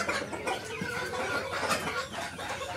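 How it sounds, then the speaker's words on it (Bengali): Healthy hens cluck together in a mixed backyard flock kept alongside ducks and roosters, a steady dense chorus of overlapping clucks close by with no talking. "খুবই সুস্থ মুরগিগুলো"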